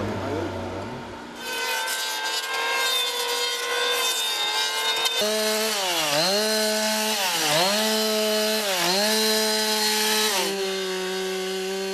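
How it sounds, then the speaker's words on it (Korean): A carpenter's electric saw cuts wood at a house-building workshop, a loud, continuous whining buzz whose pitch dips and recovers repeatedly as the blade bites into the timber. "전기톱으로는 나무를 자르고 표면을 매끄럽게 하기 위해 대패로는 샌딩 작업을 한다"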